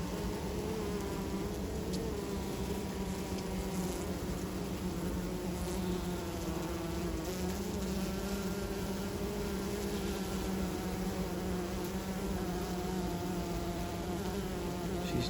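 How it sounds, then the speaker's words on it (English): A dense, steady drone of many honey bees buzzing at a hive fills the whole stretch, continuous and close, with no voices. "I've had a few bees come up to her now."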